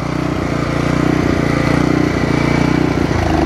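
A small two-stroke brush cutter engine runs steadily at close range, a loud buzzing drone with a slightly uneven, pulsing rhythm throughout.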